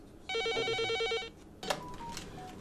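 An office telephone at a Seoul counseling hotline for pregnant women in crisis rings once with a rapid electronic trill for about a second. Quieter clicks and handling sounds follow as the call is picked up.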